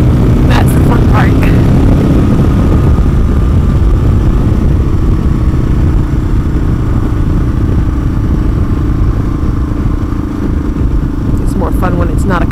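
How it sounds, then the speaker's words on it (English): A motorcycle engine roars loud and continuous as the rider opens the throttle, a heavy, unbroken drone close to the microphone throughout. "you can't be afraid of opening up the throttle"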